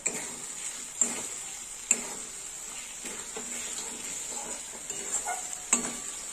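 Fish head curry with tomatoes frying in a pan while being stirred, giving a soft steady sizzle with a few sharp utensil ticks against the pan.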